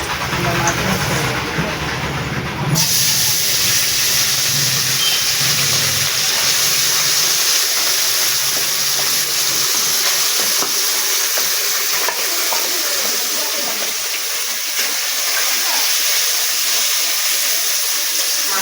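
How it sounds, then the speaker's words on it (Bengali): Mourala fish fry in hot oil, giving a loud, continuous close-up sizzle that holds steady after a brief muffled start and runs on without a break. "এবারে ভাজা হোক আস্তে আস্তে"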